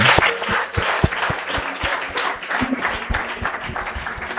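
A church congregation applauds together for several seconds, dense steady clapping with a few louder individual claps standing out and a faint voice underneath.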